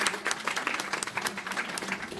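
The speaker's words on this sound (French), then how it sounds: "On l'applaudit bien fort" Audience applause at a mediumship show, a steady wash of many hands clapping at moderate level for a couple of seconds, with faint voices mixed in.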